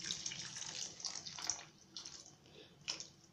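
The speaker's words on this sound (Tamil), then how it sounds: "நமக்கு குழம்பு எந்த அளவுக்கு வேணுமோ அந்த அளவுக்கு கொஞ்சம் தண்ணீர் விட்டுக்கணும்." Water poured into a pot of Chettinad tamarind kulambu, thick ketti kulambu style, in soft trickling bursts with pauses between, fairly faint and close.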